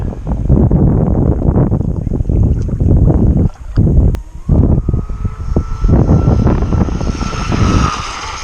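Zippkits G30 tunnel hull model boat on a 4S setup runs loud and steady across water into the wind, a continuous buzzing motor whine with brief dips around mid-run, plus wind noise on the microphone.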